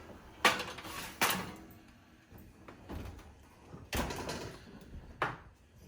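An oven door opens and homemade matzah comes out, making a series of sharp clattering knocks and scrapes of trays and pans that are fairly quiet and spread over a few seconds.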